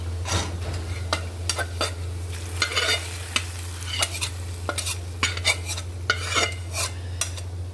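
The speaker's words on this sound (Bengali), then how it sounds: "পেঁয়াজটা বেরেস্তা হয়ে গেছে, আমি দিয়ে দিচ্ছি।" Crispy golden fried onions stirred into a sizzling pan, with repeated scraping clicks of a spatula over a low steady hum and a gentle sizzle, and no voices.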